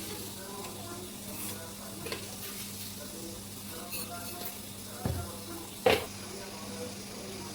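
Water on the boil in a pot with sugar added, a soft steady bubbling hiss running throughout, with a few faint knocks and a sharper clink near the end.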